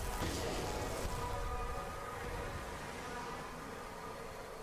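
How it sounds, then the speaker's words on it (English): A dying bee from a broken swarm in Sunless Skies gives off a tremulous buzz, loud at the start and slowly fading into a steady, softer drone. "One of the bees, the sigillant's back occluded with ichor, begins its final tremulous song"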